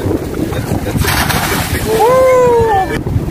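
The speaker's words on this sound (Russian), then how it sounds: "Прекрасное море." Sea waves splash at a beach in Hurghada, Egypt, with broadband wash and wind close by, while a voice rises in a drawn-out tonal call over the surf.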